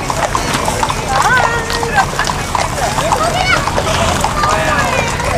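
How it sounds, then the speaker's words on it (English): Horses' hooves clip-clop steadily on pavement at a Christmas parade in Purcellville, amid a busy outdoor crowd with people chattering and calling out over the rhythmic clatter. "Look at the horses here."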